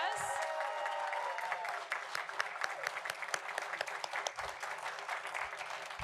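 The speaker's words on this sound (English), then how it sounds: "give all of our science fair winners one more round of applause." Audience applause for science fair winners at a school district board of education meeting, a sustained round of clapping from a room full of people, moderately loud with scattered claps and faint voices beneath.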